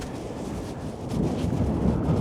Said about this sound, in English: Oh, it's still so windy today.